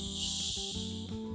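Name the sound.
fizzing of opened Diet Coke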